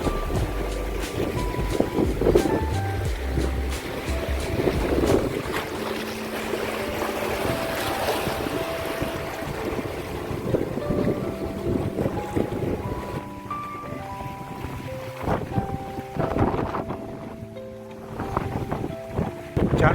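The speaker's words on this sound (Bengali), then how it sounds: "চান্ডিল লেকে উথাল পাতাল ঢেউ এবং ঘূর্ণিঝড়ের মাঝখানে প্রচণ্ড হাওয়া চলছে।" A strong cyclone wind roars across Chandil lake as rough waves churn and slap, a continuous loud rush of gusts and water lasting the whole stretch.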